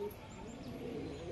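A single pigeon coos softly and low in a loft setting, faint against steady background noise, with no talk over it.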